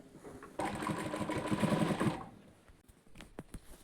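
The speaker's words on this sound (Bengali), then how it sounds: "টেনে এটাকে একটা চাপ সেলাই দিয়ে দেবো।" A sewing machine stitches a cotton nightie in one quick burst of rapid mechanical chatter lasting about a second and a half, followed by quieter handling clicks and small knocks.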